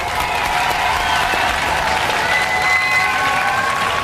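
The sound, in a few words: studio audience applause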